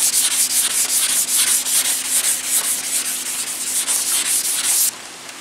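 Guide coat being sanded off a car body panel during candy paint prep, worked in an X pattern: steady, continuous close-up abrasive rubbing with rhythmic strokes, loud and alone, stopping abruptly near the end.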